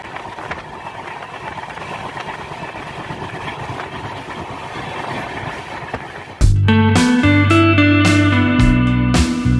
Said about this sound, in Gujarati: અત્યારે ટ્રેન 107 કિલોમીટર પ્રતિ કલાકની સ્પીડે દોડે છે